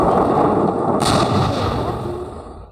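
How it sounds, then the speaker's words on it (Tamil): Firework rocket launched in the Fireworks Simulator 3D video game, a continuous loud blast-like rush with a sharp bright burst about a second in, then slowly fading roar. "இந்த ராக்கெட் ட்ரை பண்ணுவோம்."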